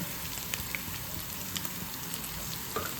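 Garlic, green chilli and onion frying in a pan give a steady, soft sizzle with a few small crackles and pops, faint and continuous with no voices.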